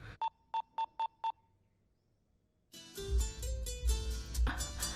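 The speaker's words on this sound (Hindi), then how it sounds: "रुको मैं कॉल करता हूँ।" Five short, evenly spaced electronic beeps of a phone keypad being dialed, followed by a pause and then a burst of louder background sound.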